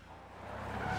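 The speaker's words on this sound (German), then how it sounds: "Ist natürlich unklug, hier mit einem lauten Moped durchzufahren." Moped engine in the battle royale game PUBG (Playerunknown's Battlegrounds), a steady droning motor with a slight rise in loudness as it rides on, close and continuous, with no talk over it.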